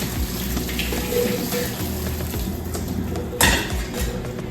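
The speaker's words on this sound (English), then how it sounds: "Let's strain the veggies." Hot water gushes steadily as boiled green vegetables are drained through a strainer in a home kitchen, with a brief louder splash near the end.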